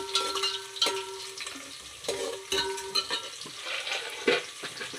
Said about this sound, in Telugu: ఇంకా కొంచెం వేగాలి, బ్రౌన్ కలర్లో వేగాలన్నమాట